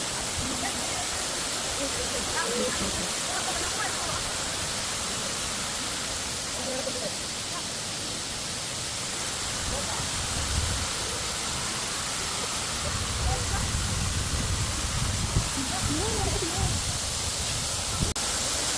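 Steady broadband roar of the Batlag waterfall in Tanay, Rizal, a continuous rushing wash of falling water with faint voices in the background.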